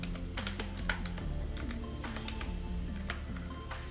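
Keys tapped on a computer keyboard while a password is entered for a trading account login, a steady run of close, light clicks over a low background hum with no talking.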